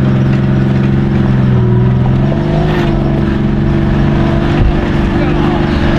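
A Jeep being driven back to a parking lot after a mountain climb, its engine giving a loud, steady drone that holds through the whole stretch with little change in pitch.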